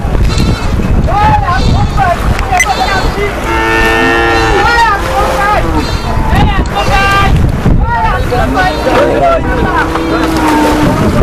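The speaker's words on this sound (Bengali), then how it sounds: "এটাই প্রথম আজকে ফার্স্ট টলার আসছে গরু নিয়ে" A trawler engine drones steadily under loud wind as the boat arrives on the Jamuna River carrying cattle for Aricha market, while animals bleat and low nearby and people talk over the noise.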